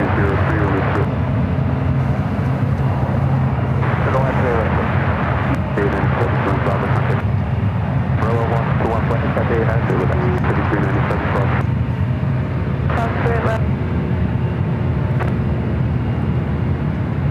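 A Lufthansa Boeing 747 jet taxis out toward runway 28 at San Francisco airport, a steady low engine rumble and whine running throughout, with faint intermittent chatter nearby.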